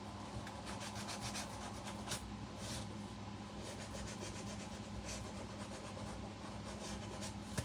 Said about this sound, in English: And then we can come back with our sandpaper.